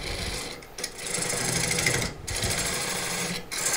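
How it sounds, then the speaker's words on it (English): A lathe tool scrapes across a spinning bowl of very hard burl wood, giving a continuous, close, raspy whir broken by a few brief pauses. "I'm able to come across with this and start scraping a bit"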